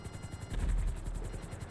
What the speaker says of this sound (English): Helicopter's coming in.